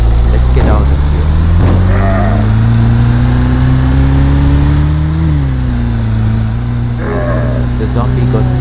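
A car engine in a Roblox game revs as the car pulls away, a loud, steady mid-pitched drone that climbs in pitch, dips, and settles again, with a person talking over it.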